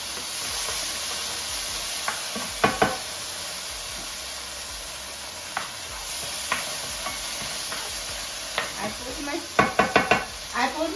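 Tilapia fillets sizzle in a pan of crushed tomato sauce, a steady hiss of frying with a few sharp knocks and clatters of a utensil against the pan near the end.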